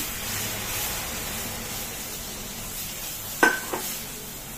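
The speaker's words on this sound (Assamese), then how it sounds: "এয়া মই চেনি পানীখিনি অলপ অলপকৈ দি যাম" Besan roasting in ghee in a pan over a low flame, with sugar water poured in a little at a time: a steady soft sizzle throughout, then a sharper hiss and splutter near the end as liquid hits the hot mixture.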